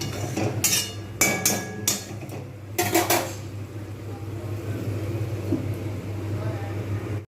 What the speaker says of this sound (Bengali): এবার আমি আবার ফ্রেক ঢাকনা দিয়ে দেবো